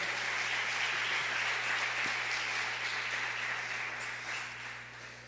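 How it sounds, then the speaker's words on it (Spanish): A church congregation gives a round of applause to the Lord after a prayer, a moderately faint, steady patter of many hands with a low constant hum beneath, gradually tapering off toward the end. "Dale un aplauso al Señor, hermano amado."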